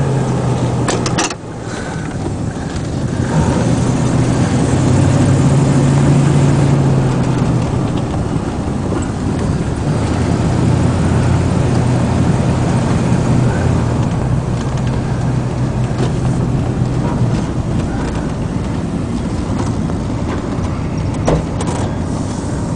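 An Ithaca motorhome with a 3-speed transmission drives along on a short ride, its steady engine drone and road rumble filling the cabin continuously, with occasional bumps and rattles.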